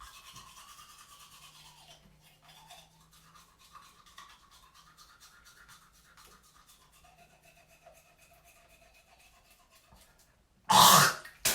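A toothbrush with toothpaste scrubs lightly in soft, quiet rhythmic strokes, followed near the end by a sudden loud rush of noise.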